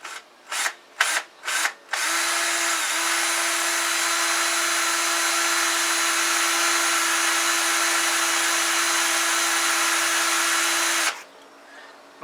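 Power drill boring into a high tensile bolt during engine assembly: three short trigger bursts, then one long steady grinding whine lasting about nine seconds before it stops abruptly, loud and close.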